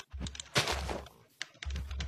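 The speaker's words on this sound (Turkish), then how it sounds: "klavye mouse'un sesi çok geliyorsa yine özür dilerim" Computer keyboard keys and mouse buttons clicking in short bursts during a Minecraft Java session, a few quick clustered taps with brief pauses, close and moderately quiet.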